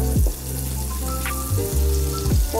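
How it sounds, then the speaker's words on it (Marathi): Cinnamon, cardamom, cumin and garlic sizzle in butter and oil in a pan for palak paneer, a steady close crackle under some low humming tones. "थोडंसं जिरं, थोडेसे 2-3 लसणाच्या पाकळ्या, छान फ्राय करून घेऊया।"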